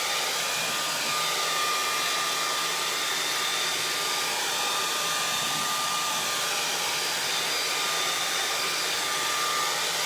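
A hair dryer drying paint runs continuously at steady volume, a constant whooshing blow with a thin high whine, no voices.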